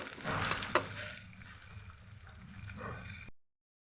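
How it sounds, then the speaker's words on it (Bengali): Onion, green chili and spices fry in a pan with a faint, brief sizzle and a few soft stirring scrapes before the sound cuts off. "পেঁয়াজটা আমি মশলাকে ভেজে নেব।"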